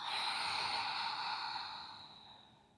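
A slow, steady exhale during a guided breathing exercise, a soft airy breath that stays level and then fades gently toward the end, close and quiet with no talking over it.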